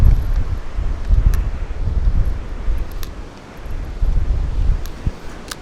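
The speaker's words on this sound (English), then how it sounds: "This wind is getting ridiculous." Strong wind blasts outdoors at a shooting spot, rumbling low and buffeting the microphone in continuous gusts that swell and ease, with faint rustling underneath.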